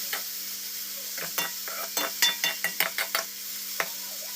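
Onion and tomato fry in a pan for chicken gravy, a steady sizzle broken by a run of sharp stirring scrapes in quick succession near the middle, close and fairly loud with no talk.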